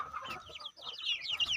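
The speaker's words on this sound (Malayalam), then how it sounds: "ഇത് കാപ്പിരി കോഴിയാണ്. കാപ്പിരിക്കോഴി, മുള്ളൻ കോഴി എന്നൊക്കെ പറയും." Kappiri chickens, also called naked-neck or spiny fowl, cluck in a steady run of short calls around feeding time, with louder, higher squawks building toward the end.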